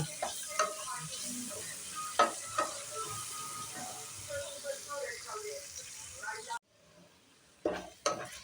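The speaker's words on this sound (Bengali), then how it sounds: "পেঁয়াজটা ভেজে নেব" Onions frying in a pan after the tempering spices, with a soft sizzle beneath irregular close stirring scrapes and clinks of a spatula, a short quiet gap, then a few louder knocks against the pan.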